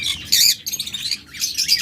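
A pair of breeding lovebirds gives bursts of piercing, high-pitched chirps, two dense clusters separated by a short lull, close and fairly loud.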